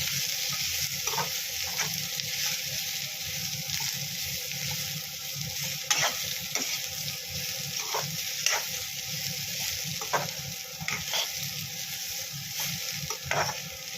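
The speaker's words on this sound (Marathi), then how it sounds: "यामध्ये हा सर्व खडा मसाला आपण एकत्र घालू आणि चांगलं पुन्हा एक दोन मिनटं परतून घेऊ" Whole spices sauté in hot oil on a low flame for Kolhapuri tambada mutton rassa. A steady, close sizzle runs throughout, with periodic scraping strokes of a spatula stirring the pan.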